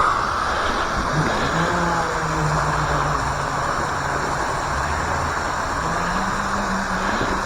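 A Thunder Tiger OBS jr radio-controlled boat runs its motor at half throttle, a steady, buzzing electric whine with a slowly wavering pitch that holds unbroken throughout.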